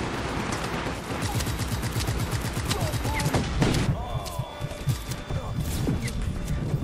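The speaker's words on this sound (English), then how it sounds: "Too much shooting going on." Rapid bursts of automatic gunfire in the open-world action game Just Cause 3, dense and continuous with heavier thuds and crashes mixed in, while someone talks over the shooting.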